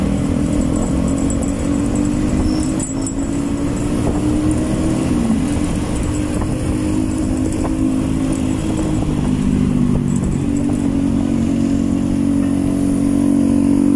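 Dense traffic of cars and motorcycles in Pasay, Philippines, makes a continuous loud drone of idling and revving engines that rolls on steadily without pause.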